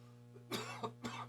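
A pair of quick, harsh coughs from one person, close and fairly quiet, over a low steady hum.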